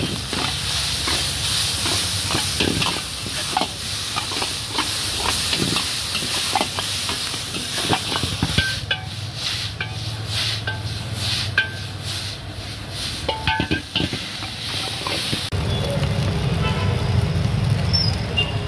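Manchurian noodles are stir-fried with salt and sauce at a street pav bhaji stall, giving a continuous loud hiss of steam and sizzle with scraping stirs and traffic noise around.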